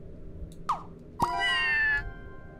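Two cat meows in the video game Scribblenauts Unlimited, a short one followed by a longer drawn-out one, clear and close with no talking.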